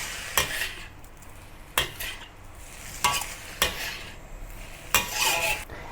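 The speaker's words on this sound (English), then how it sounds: "Turn up the heat and stir fry for about half a minute to bring out the wok aroma." A spatula scrapes through Thai-style crab fried rice being stir fried in a hot wok, making about five loud, evenly spaced scraping strokes over a soft background sizzle.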